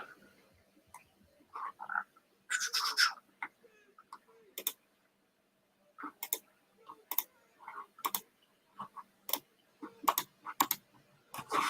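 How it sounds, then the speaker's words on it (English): Sharp, forceful clicks and keystrokes in irregular bursts with short quiet gaps, close by, like hard typing and mouse clicking in a quiet room. "That's an angry typing right there."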